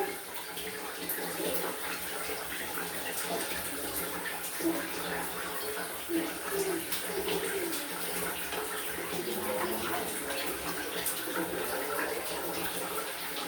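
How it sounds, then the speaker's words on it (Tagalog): Shower water runs steadily, rinsing soap off a body, a soft continuous spray and patter at low level with no clear breaks. "So, babanlaw tayo."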